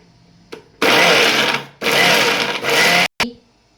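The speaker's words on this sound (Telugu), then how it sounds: "ఇప్పుడు దీన్ని కచ్చా పచ్చగా మిక్సీ పడదాము జస్ట్ ఒక్కసారి అట్లా ఆన్ చేసి ఆఫ్ చేస్తే అయిపోతుంది" A kitchen mixer grinder briefly and coarsely grinds a spice mix for stuffed brinjal. Three loud, close motor bursts whir on and stop in quick succession, each lasting about a second, separated by short pauses.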